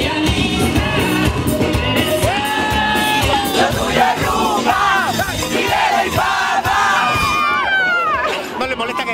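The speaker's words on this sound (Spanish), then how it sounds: "¿No le molesta que grites tanto?" Loud yelling rings out over a dense, cheering crowd of Ecuadorian and Venezuelan fans dancing together, with whoops and babble sustained throughout.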